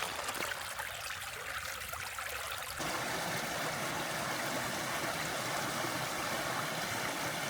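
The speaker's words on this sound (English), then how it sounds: "What a lovely sound comes from a waterfall." A waterfall on a green-space walk near the River Sence pours in a continuous broadband rush that fills the whole span, growing fuller and steadier partway through, with no voices.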